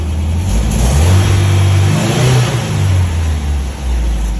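An MGB engine runs loud and close throughout, a steady low idle that swells into a couple of revs and settles back toward idle, with no talking over it.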